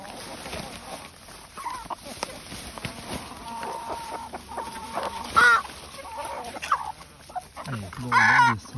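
A mixed flock of chickens clucks and squawks around a farmyard while eating greens, with an odd louder call near the end, under bits of talk and outdoor background noise.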